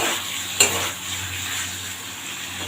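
Spices for paneer posto sizzle steadily as they are stir-fried in oil in a pan, with a sharp clink of a utensil against the pan early on and soft scraping throughout.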